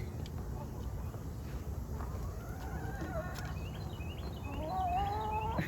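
Backyard chickens and new hens in the morning, several birds clucking and calling in scattered bursts, fairly quiet and close, with low background noise and rising calls near the end.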